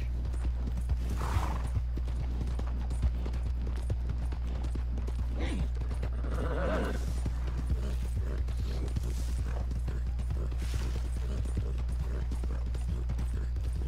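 A horse being ridden in the video game Red Dead Redemption 2 Online, with steady clip-clop hoofbeats and faint creaks of tack over a low constant hum, with no talking.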